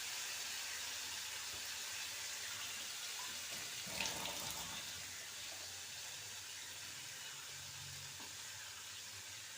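Water is poured into a pan of fried spice paste for fish curry: a brief gushing surge rises over the steady hiss of the hot pan, then settles back to a quieter bubbling sizzle.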